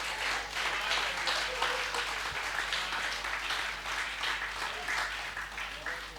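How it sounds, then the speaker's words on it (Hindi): Audience at a stage event clapping together in a dense, steady wash of applause that stays fairly even and moderately distant, with no talk over it. "एक बार बजा ताली मिलकर सारे, तो आनंद आएगा।"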